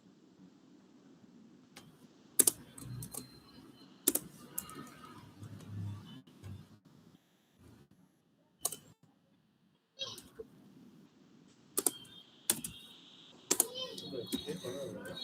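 Capital letters are typed on a computer keyboard in sparse bursts of sharp clicks and key taps, separated by quiet gaps, with a voice speaking softly underneath at times.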